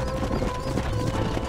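Horse hooves clop at a steady pace in the Red Dead Redemption video game, blended with a constant low rumble and a faint sustained musical tone, fairly close and continuous.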